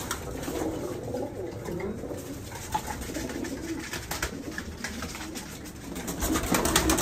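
Pigeons coo steadily at a rooftop loft where a flock has just been released, a soft continuous cooing over open-air background noise that swells slightly toward the end.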